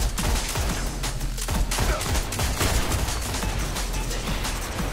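Dense, continuous gunfire in the Destiny video game during a crowded 6v6 Inferno match, overlapping loud shots and bursts from many weapons with mechanical clatter, close and unbroken.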